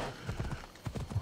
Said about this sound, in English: Where's my horse? Mount the horse.